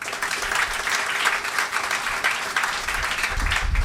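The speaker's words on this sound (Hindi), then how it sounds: "सुनील के लिए जोरदार तालियां" An audience on a boys' cricket tour to Kutch gives a dense, steady round of clapping, loud and continuous throughout with a faint crowd murmur beneath.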